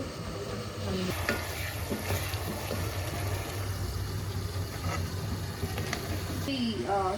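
Chicken cooking in a pan for gongura chicken curry, a steady sizzle and bubbling under intermittent clinks and scrapes, with a brief voice near the end.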